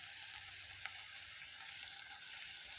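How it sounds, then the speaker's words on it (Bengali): Onion and garlic fry in a pan, giving a soft, even, continuous sizzle heard alone and fairly quiet, with faint stirring ticks. "পেঁয়াজটা ভাজা ভাজা হোক, এর মধ্যে আমি একটু রসুনটা দিলাম"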